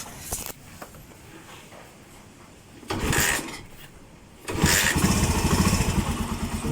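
A Suzuki Mola motorcycle engine cranks and catches, then runs with a steady, rumbling idle that grows louder near the end.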